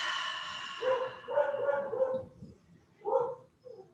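Dogs bark in short bursts during a gentle restorative yoga session, several sharp yips and barks close by, separated by brief quiet gaps.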